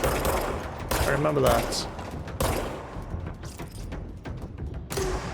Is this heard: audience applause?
no